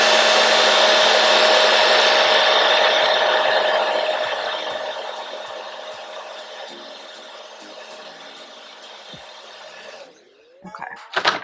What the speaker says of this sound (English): I am blow drying on cool because if I don't blow dry on cool, I'll start sweating